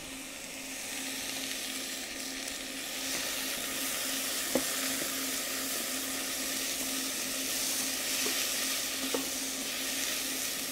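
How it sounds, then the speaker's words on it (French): Vegetables sweat in a pan while a stock for a seven-hour leg of lamb is prepared, giving a steady, close, continuous sizzle with a few faint clicks of stirring and no talk. "quand les légumes suent, ça chante. Il y a ce grésillement"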